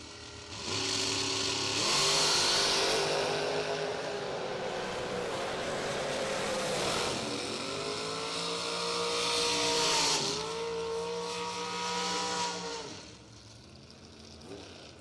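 Drag racing cars launch hard down the strip at a Christmas bracket racing event, loud engine roar rising in pitch through two runs of acceleration before fading at the end, with no talk.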